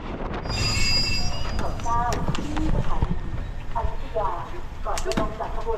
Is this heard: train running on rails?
yes